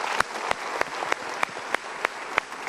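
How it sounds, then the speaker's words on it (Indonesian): A studio audience applauds in a television talk show setting, a soft, fairly distant patter of clapping with a few sharper individual claps standing out, no voices over it. "Kita berikan tepuk tangan untuk mereka."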